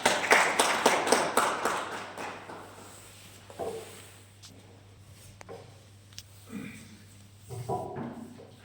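Brief burst of audience clapping welcomes a writer and journalist onto the stage at a literary event, fading after a couple of seconds into quiet room noise with scattered taps and thumps.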